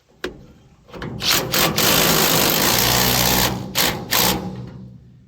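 Pneumatic impact gun set to high, about 600 foot-pounds, drives a 7/8 socket onto a car trailer's leaf spring bolt: loud rattling bursts, a long sustained hammering run with short stops and restarts, no talk.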